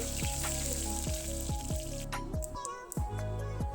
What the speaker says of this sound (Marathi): तेल गरम झाल्यावर त्यामध्ये टाकायचे आहे मोहरी जिरं चिमूटभर हिंग कढीपत्ता